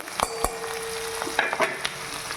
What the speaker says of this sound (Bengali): বেশ লাল করে ভাজতে হবে।